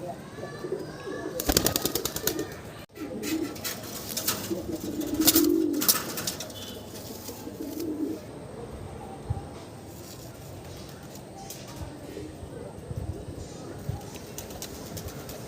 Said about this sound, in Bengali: একটা বাচ্চা কবুতর ধরে দেখাই।